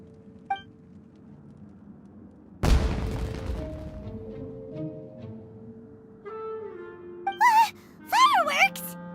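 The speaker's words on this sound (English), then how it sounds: "It sounded like fireworks." A loud firework blast booms in Genshin Impact, one sharp burst that rings out and fades over a few seconds, followed by short game-like tones and brief voiced sounds.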